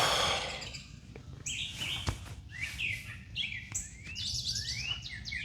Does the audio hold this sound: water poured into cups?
no